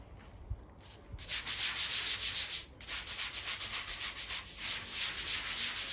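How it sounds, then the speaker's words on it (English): A brush scrubbing wet outdoor tiles, producing steady, loud, rhythmic bristle strokes up close after a short quieter start, with no talking. "You may want to give it a final little scrub."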